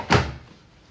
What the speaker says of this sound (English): Pull the door open, place the clothes right in.